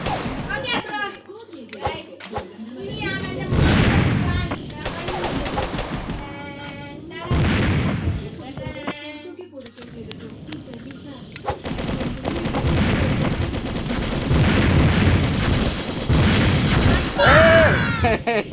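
Gunfire and explosions in the mobile game Mini Militia, repeated bursts of rapid shots and booms in clusters throughout, with a player talking over the action.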